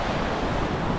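Steady roar of sea surf washing onto a beach, with wind buffeting the microphone throughout.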